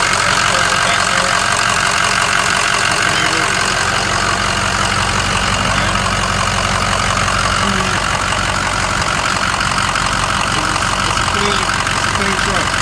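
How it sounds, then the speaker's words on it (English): A 2006 Ford F-350 pickup with a V8 turbo diesel idles nearby, a loud, constant clattering rumble with rhythmic knocking that runs unbroken throughout. "power shift, V8 turbo diesel. That turbo back there."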